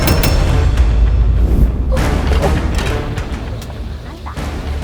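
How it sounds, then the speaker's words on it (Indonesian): Wet bamboo burning in a traditional clay cooking stove bursts with a couple of sharp, loud pops and thuds over crackling fire noise, while people talk nearby. "Oh ya kalau pakai bambu emang suka meleduk, Mas Boy kayak gini."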